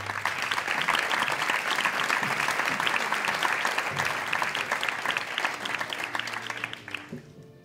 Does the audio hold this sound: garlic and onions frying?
no